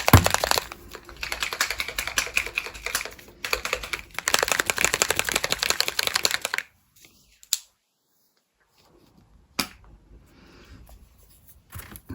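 A chunky paint marker pen is shaken hard, giving a fast run of close rattling clicks for several seconds, then a few sparse knocks and clicks in near quiet, with no talk.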